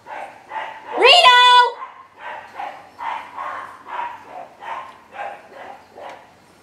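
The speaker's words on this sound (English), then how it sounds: "The neighbor dog is out, so we're just gonna listen to barking for a little bit." A neighbor's dog barks outdoors at a campsite: one loud yelping bark followed by a steady series of evenly spaced barks, fairly near and clear.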